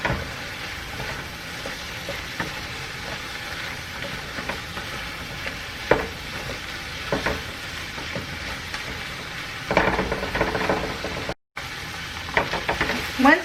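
Ground beef with cumin, cooked for Mexican empanadas, is stirred in a frying pan, giving a continuous sizzle with scraping and stirring noises, close by, briefly cutting out near the end.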